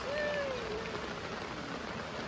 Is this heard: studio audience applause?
no